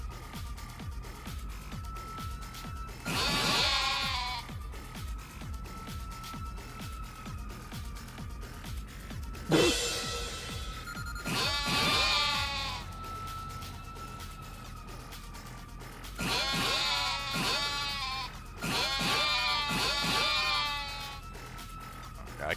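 Sheep in the video game Like a Dragon bleat in several separate bursts, some doubled, over a steady low background hum and faint music.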